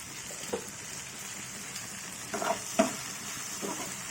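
Amaranth leaves fry in a covered pan on low heat, making a soft, steady sizzle broken by a few faint clicks and taps of the lid or utensil.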